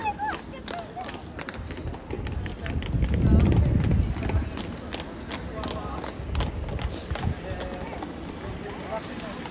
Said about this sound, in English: Horse-driven carriages here.